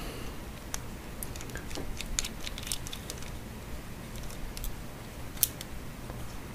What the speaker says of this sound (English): Using a Phillips bit screwdriver, you'll want to remove these 2 screws here.